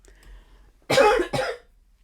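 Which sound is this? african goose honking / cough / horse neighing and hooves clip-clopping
cough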